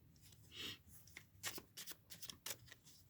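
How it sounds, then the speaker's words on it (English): Tarot cards are shuffled by hand in a quiet room, a soft riffle followed by a run of short, crisp flicks and slaps as the deck is cut and bridged, close and fairly faint. "I'm gonna pull a few cards."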